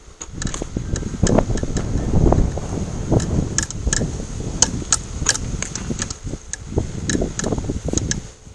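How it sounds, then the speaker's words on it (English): Cold outdoor wind buffeting the microphone in broad, rumbling gusts, steady throughout, with scattered sharp taps and knocks over a faint high-pitched hum. "The wind obliged by kicking in right there when I was getting into it."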